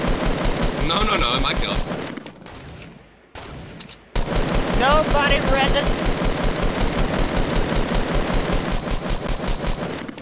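Rapid, loud bursts of spam cannon fire in a Fortnite Battle Royale squad match, sustained and dense with a short lull midway, while players talk excitedly over the shooting.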